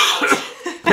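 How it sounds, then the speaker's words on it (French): Single cough from a woman, short and close, a couple of dry bursts with a brief pause between them, heard on its own without talk. "Je vais tousser pour l'instant."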